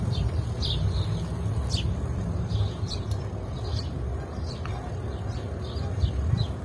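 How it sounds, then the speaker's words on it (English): Birds chirping outdoors: repeated short, high, bright chirps scattered every second or so, clear above a low, steady background rumble, with no one talking. "I'm pretty sure those are birds."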